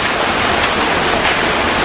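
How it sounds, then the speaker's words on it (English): Hail pelting down outside a garage, a steady, dense hiss of impacts heard from just indoors, loud and continuous with no voices. "It's hailing."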